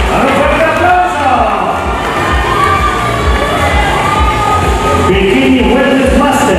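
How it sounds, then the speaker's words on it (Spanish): A crowd cheers and shouts with loud, continuous energy at a bodybuilding competition at a fair in Mexico, the noise holding steady throughout and filling the space around the stage. "¡A un fuerte aplauso!"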